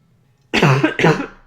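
A single harsh cough in two quick bursts, close and loud, with no talking around it.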